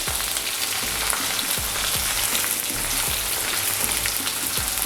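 Chopped onions go into hot oil with already-fried dried red chillies, setting off a steady, close, dense sizzle with a few light clinks and scrapes of a spoon throughout; no one speaks.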